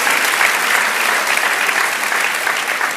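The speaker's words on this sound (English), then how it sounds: "judging by your rounds of applause, you think so too" Loud, sustained applause from a large audience at a new season launch event, a dense wash of clapping that stays even for the whole stretch.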